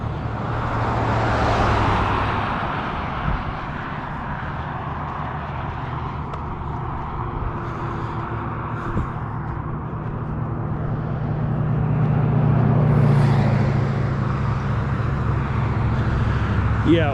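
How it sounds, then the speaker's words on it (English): Heavy road traffic close by makes a steady, broad roar that swells louder near the end, with no voices over it. "because we're so close to a road with heavy traffic"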